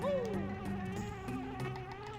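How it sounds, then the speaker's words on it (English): Bees from Banjo-Kazooie swarm around a ship in the game, giving a steady, fairly quiet insect-like buzz that holds across the whole moment with faint game sounds beneath. "There are bees on your ship, lady."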